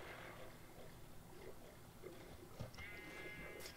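Sheep bleat in a Minecraft survival game, a few short, faint calls over a steady layer of quiet background noise and soft clicks, with no voices.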